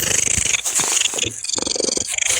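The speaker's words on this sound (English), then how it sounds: "because she purrs so loud" A Maine Coon cat purrs loudly and close up, a steady rapid rumbling vibration with rhythmic pulses as it breathes in and out, with no talking over it.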